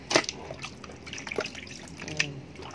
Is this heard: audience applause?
no